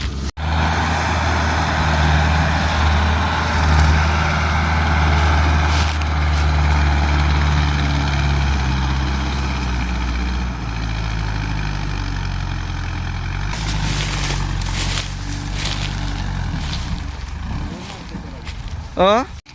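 Tractor machinery drones loudly and continuously nearby, a steady mid-pitched engine hum with rising revs toward the end, while people talk over it.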